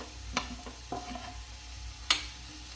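Crushed garlic and cumin frying with onions for an eggplant bharit, stirred in a pan: a faint steady sizzle with a few spatula taps and clinks against the pot.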